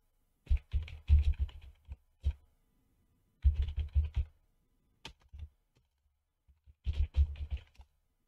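A computer keyboard is typed in three separate bursts of quick, close clicking with short silent gaps between them.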